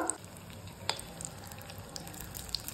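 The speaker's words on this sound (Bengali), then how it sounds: "এবার পকোড়াগুলোকে আমি মিডিয়াম হিটে গোল্ডেন ব্রাউন করে একদম ফ্রাই করে নেব।" Chilli pakoras deep fry in hot oil over medium heat, a faint steady bubbling sizzle throughout with a few light pops, alone without talk.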